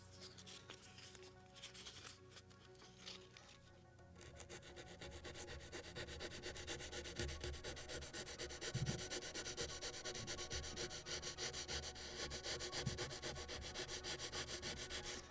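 A basswood part for a model of the 1776 gunboat Philadelphia is rubbed with smooth sandpaper, a steady close scratchy rasp that grows louder and continues in long strokes.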